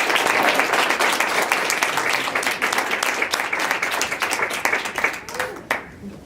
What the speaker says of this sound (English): let's give him an applause for earning his degree